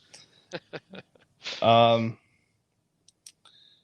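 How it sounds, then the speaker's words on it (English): A handful of quick, sharp clicks from one participant's side of a conversation, followed by a brief voiced sound and a few faint later ticks. "All I hear is clicking coming from you."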